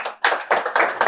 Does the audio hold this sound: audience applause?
yes